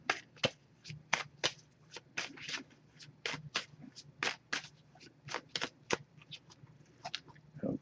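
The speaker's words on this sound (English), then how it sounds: "Just going to give this a few shuffles." A Messages of Love oracle card deck being shuffled by hand, a rapid run of crisp riffling snaps and flutters repeating across the whole stretch, close and clear with no talking.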